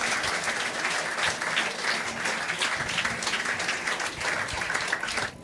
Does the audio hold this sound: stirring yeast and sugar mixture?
no